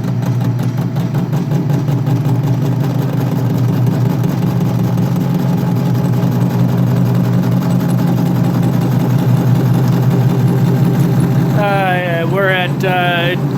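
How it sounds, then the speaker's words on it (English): A lathe turns down weld buildup on a roller compactor part, giving a steady droning machine hum with a constant mid-pitched tone, loud and continuous; a brief chirping sound near the end. "But now we'll start turning down the weld buildup."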